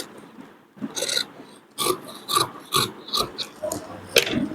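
Scissors cut through blouse fabric in a series of close, rhythmic crunching snips, about eight quick bites separated by brief pauses.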